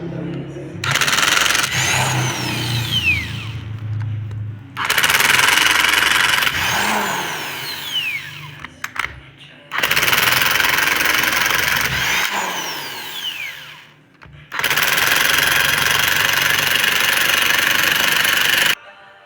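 An impact wrench loosens the cylinder head bolts on a Honda motorcycle engine in four long, loud, close bursts of buzzing hammering, with a few seconds of quiet between each.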